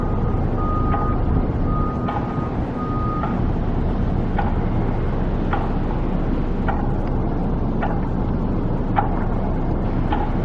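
A loader working a stadium construction site in Las Vegas sends out repeated reversing beeps at a steady rhythm over a dense rumble of truck and machinery noise, the beeps moderately distant and clear.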